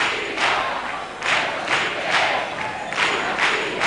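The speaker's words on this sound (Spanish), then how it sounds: "Gran ovación del público y gritos de chirigota" Carnival audience in 2000 gives an ovation with rhythmic shouts for a chirigota group, loud surging crowd chanting in repeated bursts with cheering between.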